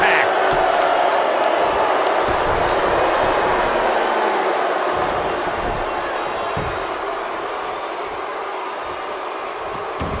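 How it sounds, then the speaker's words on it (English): Wrestling arena crowd at a live event cheering, a continuous loud roar of many voices that stays dense throughout and eases slightly toward the end. "I don't remember the last time I heard a more passionate crowd than the one we have here tonight."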